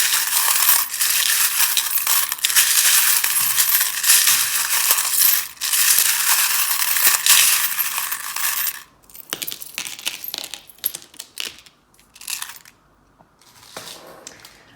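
Tarot cards are shuffled loudly in a long, crackling riffle, then shorter bursts of rustling and tapping follow with pauses between them.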